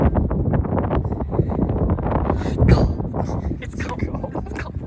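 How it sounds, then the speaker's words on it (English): Strong gusts buffet an outdoor microphone, producing loud, continuous rumbling wind noise with bursts of rustle, while people talk under it. "So windy!"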